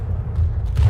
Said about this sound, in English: Chuck another grenade.